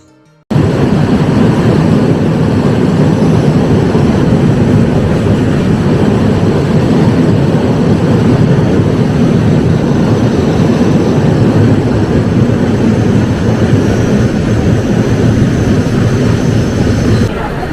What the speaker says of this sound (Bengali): আমাদের ট্রেন এসে পৌঁছলো জামালপুর স্টেশনে